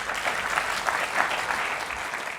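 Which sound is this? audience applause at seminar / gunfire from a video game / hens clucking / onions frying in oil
audience applause at seminar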